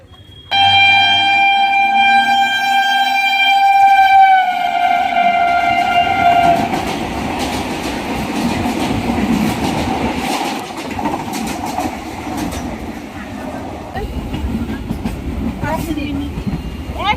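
A train horn blares loudly for several seconds as the train arrives at a station, then the rumble and rattle of railcars rolls past close by, with faint voices of waiting passengers underneath.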